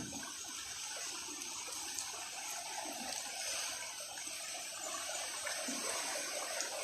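Floodwater rushes loudly and steadily, a dense continuous roar of fast-flowing current in Bohol, Philippines, with no voices over it.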